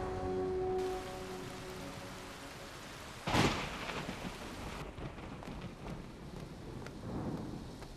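Steady rain hisses down, then a sharp, loud thunder crack bursts in around the midpoint and rolls off into continuing rainfall, with a fainter rumble later; no voices.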